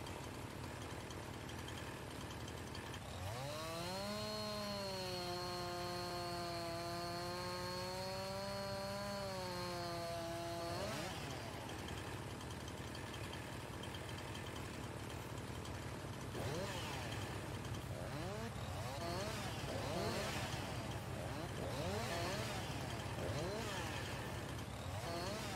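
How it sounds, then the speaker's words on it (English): A chainsaw in Farming Simulator 19 cutting trees, a steady droning motor with a rising-then-falling whine as it bites into the wood, continuous and fairly loud with a rougher buzzing stretch toward the end. "Not a real big fan of how this chainsaw just jumps."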